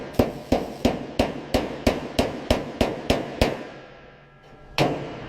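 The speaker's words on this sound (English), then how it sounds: "Pulling out the bruises. The metal has a memory. We just remind it. Reshaping the metal." Hammer striking dented car body metal on a Pontiac GTO under restoration, about a dozen loud, evenly spaced ringing blows in quick rhythm, a pause, then one more strike.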